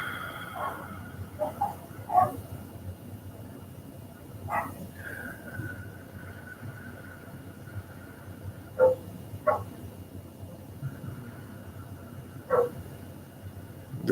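Dogs bark off and on in the distance, sharp single yaps and short bursts scattered irregularly over a low background hum, with one drawn-out whine partway through.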